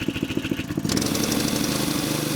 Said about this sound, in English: Starting again with the wheels scrabbling for grip against the gradient, rusty rails, and autumn leaves.